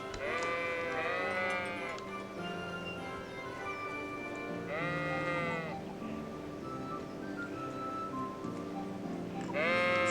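Sheep bleat several times in a medieval village setting in Kingdom Come: Deliverance, drawn-out wavering calls rising over a quiet ambient background, moderately close, with pauses between them and no speech.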